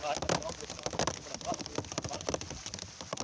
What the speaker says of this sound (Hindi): कितनी जोरदार बारिश हो रही है